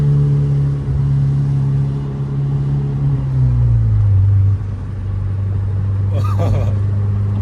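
A Mazda hatchback engine held at partial throttle drones steadily, its pitch dipping and settling partway through, with a brief higher whoosh near the end; close and loud with no talk over it.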